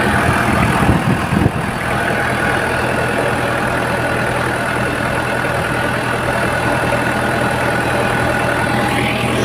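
A 3-litre 1KZ-TE turbodiesel in a second-generation Toyota Hilux Surf, after a diesel injection repair, runs at a slightly high idle with a steady, even drone. A few knocks and clunks come near the start before the engine settles into a continuous close hum.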